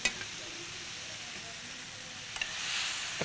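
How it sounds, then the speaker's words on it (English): Spaghetti carbonara being stirred in a hot pan off the gas, giving a soft continuous sizzle with a few faint scraping clicks, steady and moderately quiet throughout. "I keep stirring it."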